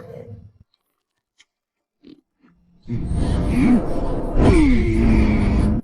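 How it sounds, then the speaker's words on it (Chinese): A cartoon creature noisily chews and crunches through bones in an animated fantasy series, a loud burst of gnawing and crunching that starts after a few quiet seconds, with a couple of brief chomps before it. "检查工具需要连骨头都嚼碎了吗？"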